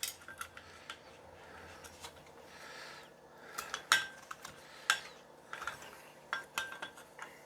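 Knife cutting through a pickled egg for tuna salad, a run of short sharp clicks and scrapes of blade on plate or board, growing denser and louder toward the end, with no voices.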